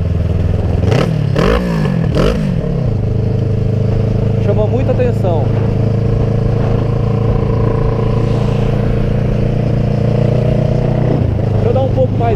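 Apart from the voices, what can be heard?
Kawasaki ER6N motorcycle with loud aftermarket exhaust revving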